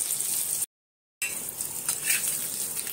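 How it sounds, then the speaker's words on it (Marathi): Surmai fish frying in a pan over low gas, giving a steady soft sizzle and hiss with a brief gap of silence partway through. "मंद गॅसवर आपण फ्राय करून घेऊ"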